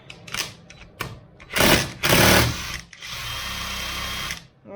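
An impact driver hammers away at a bolt on a Yamaha DT 125R suspension in a workshop, coming in several short loud bursts followed by one longer sustained run of rattling blows, close to the listener.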